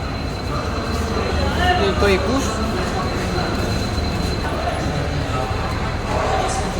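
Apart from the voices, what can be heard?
crowded busy Howrah railway station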